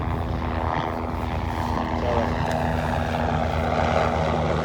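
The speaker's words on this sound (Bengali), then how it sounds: "এখানে দেখতে পাচ্ছেন উপরে হেলিকপ্টার একটা যাচ্ছে" A helicopter passing overhead near a Cox's Bazar beach, a steady droning engine and rotor rumble that holds throughout with no talk.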